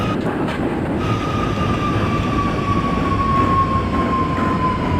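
A Queens-bound F subway train in the OpenBVE train simulator rolls along with a loud, steady rumble of wheels and car noise, and a thin high whine gliding slowly downward over it; nobody speaks.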